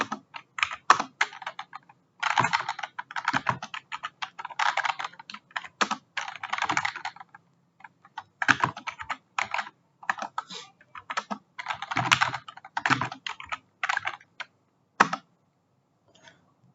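Rapid bursts of typing on a computer keyboard during a beginner Python programming lesson, with clattering keystrokes in quick runs broken by short pauses, fairly close and soft.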